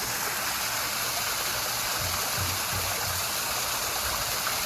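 Steady, loud rush of a waterfall in Taichung, Taiwan, heard from a bridge, a constant broadband roar close by with no pauses.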